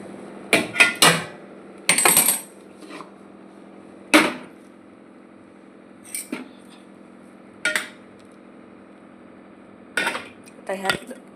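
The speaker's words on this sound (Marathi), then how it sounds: "ह्यात करपते, त्यासाठी मी दुसऱ्या भांड्यात घेते काढून" Steel cooking pots clank and scrape as food is moved from one vessel to another on a low-flame gas stove, sharp metallic knocks coming in scattered clusters, close by, with quiet gaps between.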